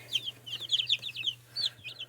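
Mother hens clucking close by in short, repeated bursts, with a steady low hum running underneath.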